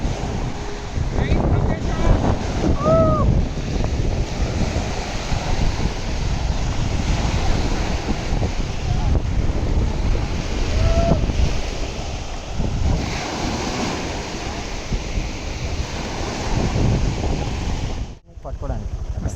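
Sea waves on a beach in Thailand, a continuous wash of surf with heavy wind rumble across the microphone and occasional faint voices in the background.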